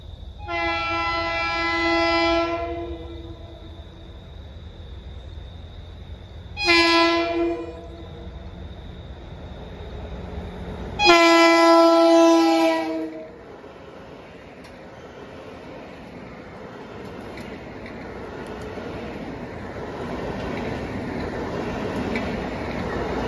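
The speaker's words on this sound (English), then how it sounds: "Approaching at 4:20 is train 1556, Penn Station to Huntington." Long Island Rail Road train 1556, Penn Station to Huntington, approaching Cold Spring Harbor station on a cool autumn day: three loud horn blasts, two long and one short, then the rising rumble of the train rolling in.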